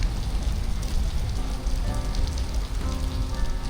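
Rain falls steadily on an afternoon riverside in Marikina, a dense even patter with a faint sizzling hiss throughout, no voices.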